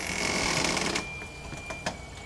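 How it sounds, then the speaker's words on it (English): An electronic buzzer in a home sounds as a steady high-pitched tone, loudest in the first half then continuing fainter, with scattered clicks and household clatter around it. "Your buzzer just went off"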